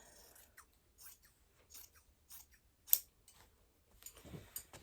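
Fabric is cut with scissors for a costume trouser alteration, a series of quiet, close, soft snips spaced unevenly, ending in a brief rustle of cloth.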